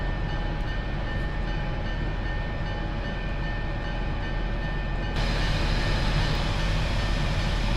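A train rolling in the Railworks train simulator game, a steady droning engine and track rumble that runs continuously and grows slightly brighter and louder partway through, with no voices.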